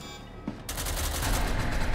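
Gunfire rattles in the game SCP: Secret Laboratory after a brief thump, building into a dense, continuous burst of shots at moderate distance with no one speaking.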